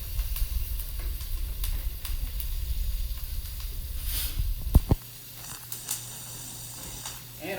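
Butter bubbling and sizzling in a pan with garlic, thyme and rosemary, a steady close crackle for most of the stretch that cuts off abruptly, leaving a quieter hum with a few clinks.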